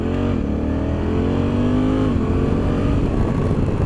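Honda Africa Twin DCT parallel-twin motorcycle on the road, its engine droning steadily with a rising then settling pitch under constant wind rush, loud and close.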